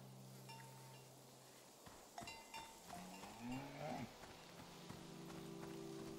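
A cartoon cow in the video game Season: A Letter to the Future lets out a couple of drawn-out moos, one starting mid-clip that swells and bends in pitch, heard close over a soft farmyard ambience with a low steady hum.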